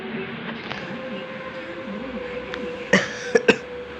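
A person recovering from a lingering cough lets out a short cluster of two or three close coughs, following a few seconds of quiet room hum with a faint sustained tone.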